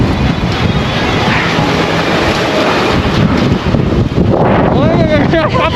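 Strong blizzard wind in Inner Mongolia at a ski resort in Ulanqab roars steadily and loudly as a continuous rushing buffet close to the microphone, with a voice briefly heard near the end.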